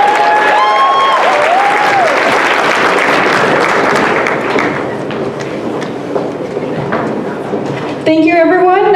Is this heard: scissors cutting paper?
no